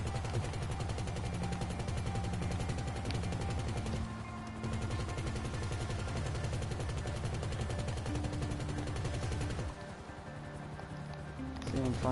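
Rapid continuous gunfire from a shooting video game, dense rhythmic bursts running almost the entire time with short pauses, with game sounds and a player's voice mixed in.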